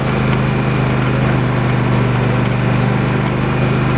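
A four-wheeler engine runs loud and steady out of a race turn, with a deep, even drone and no breaks.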